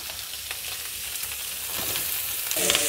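Vegetable pieces dropped into a hot oiled pan for caramelised roast vegetables, giving a steady close sizzle and frying hiss that swells louder near the end as more go in, with no talk.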